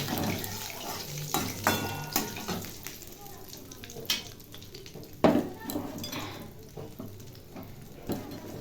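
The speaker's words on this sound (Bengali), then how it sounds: "এই দেখুন তেল খুবই গরম হয়ে গেছে, দিয়ে দিলাম কালো জিরে ফোড়ন।" Black cumin seeds hit very hot oil for a tempering, giving a steady crackling sizzle mixed with clinks and scrapes of a spatula against the pan, close and moderately loud throughout.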